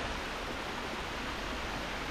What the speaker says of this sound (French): C'est la cascade de l'Autoir.